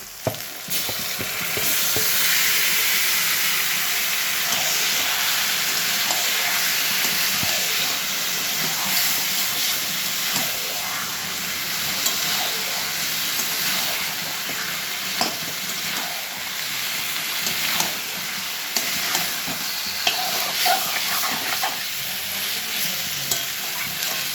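Meat is tipped into a pan of fried onions and tomato in oil, producing a sustained loud sizzle and steamy hiss with repeated scraping stirs, close and without voices.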